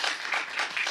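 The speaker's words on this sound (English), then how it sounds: "darle un aplauso a Leo Perales por su trabajo" Audience applause at a Pasco city council meeting, a steady wash of many hands clapping with no voices over it.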